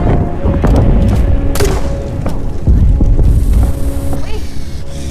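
Zor's Project Kaboom explodes in I Expect You To Die 3, loud booming thuds and heavy rumbling rolling through the scene alongside mechanical hum, with voices talking over the blasts.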